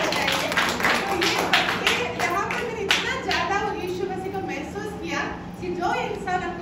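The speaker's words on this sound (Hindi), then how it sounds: "एक जोरदार ताली बजाइए।" An audience claps steadily through a Hindi testimony gathering, with a dense patter that runs the whole time beneath a speaking voice.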